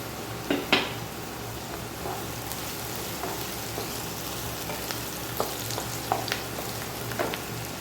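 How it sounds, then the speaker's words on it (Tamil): Onions and curry leaves sautéing in a pan, a steady close sizzle with a few sharper stirring clinks and scrapes at scattered moments, no voices over it. "வெங்காயம் நல்லா வதங்கட்டும்"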